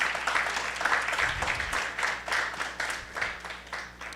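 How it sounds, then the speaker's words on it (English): A crowd claps steadily at a high school graduation ceremony, a dense roll of applause that holds for several seconds, moderately loud and fairly close. "Give yourself a round of applause."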